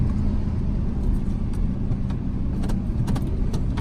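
A 2000 GMC Sierra truck with a 5.3 V8, apparently stuck in first gear, runs with a steady, loud low rumble throughout, the engine droning close by without clear rev peaks.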